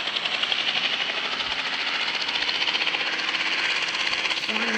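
Helicopter in a video game, a loud continuous rotor drone with fast pulsing chop, steady and close throughout with no talk.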